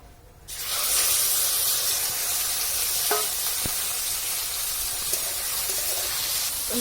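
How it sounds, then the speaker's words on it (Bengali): Shrimp sizzles loudly in hot oil, a steady crackling hiss that starts abruptly and runs throughout with a few sharper pops. No voices. "চিংড়ি মাছটা ইয়ে করে ভাজা হয়ে গেছে"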